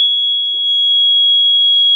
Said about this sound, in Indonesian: buzzer akan menyala, buzzer akan bunyi, dan LED-nya akan nyala